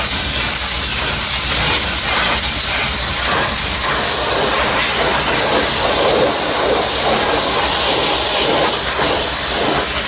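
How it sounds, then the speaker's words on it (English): Loud, continuous hissing spray of a steam cleaner at close range cleaning a Massey Ferguson 35 tractor engine, a steady rushing blast with no pauses. "I had it steam cleaned, Reg steam cleaned it."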